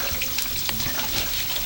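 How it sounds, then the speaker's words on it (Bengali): Fish frying, rui and katla, for a Nabanna harvest festival meal: a steady watery hiss and crackle of oil, close and continuous, with no talk. "মাছ ভাজা"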